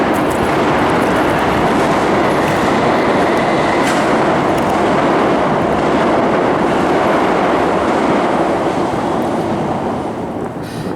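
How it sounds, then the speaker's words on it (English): A train crosses a bridge directly overhead by the river foreshore, a loud continuous rumbling roar of wheels and carriages that stays strong throughout and only begins to ease at the very end. "I had to wait for the train to go by. I'm right under a bridge"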